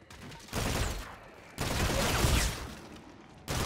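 AK rifle fire in Call of Duty Infinite Warfare zombies mode, with two sustained automatic bursts of roughly a second each, then a third burst starting near the end, loud and dense, with no talking.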